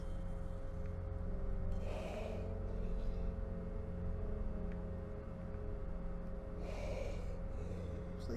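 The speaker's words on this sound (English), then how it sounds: "Please stop that weird breathing." Strange, heavy breathing in the horror game Husk, two drawn-out gasping breaths several seconds apart over a low, steady ambient drone, faint and unsettling with no talking.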